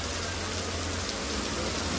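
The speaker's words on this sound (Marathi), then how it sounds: "असा धोधो पाऊस पडतोय तुरळला आमच्या." Heavy monsoon rain pours steadily over a Konkan village, a dense continuous hiss of drops on surfaces at close range with no break.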